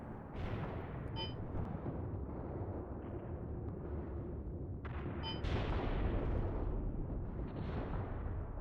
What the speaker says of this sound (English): It might just be a T-34 firing back at us.